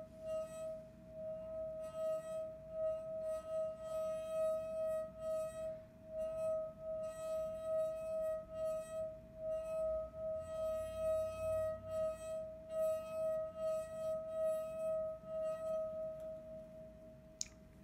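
A wet finger circles the rim of a water glass, drawing out a steady, pure ringing tone that holds for the full stretch and wavers slightly in loudness with each pass.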